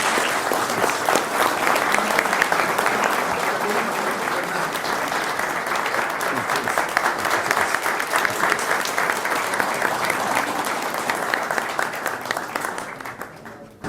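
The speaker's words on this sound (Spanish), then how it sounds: "a quien le damos la bienvenida con un fuerte aplauso" An audience at a lecture in Mexico City gives a long, loud round of applause welcoming author Antonio Velasco Piña, a dense, even wash of clapping that holds steady for about fourteen seconds before tapering off at the end.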